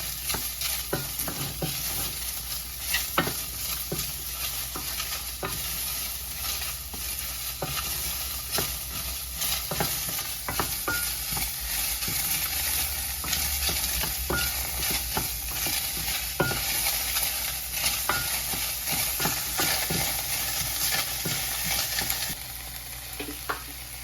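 Red and white onions hiss and crackle in a frying pan while being stirred, with frequent scraping clicks of the utensil scattered through a steady sizzle that lasts throughout, no voices.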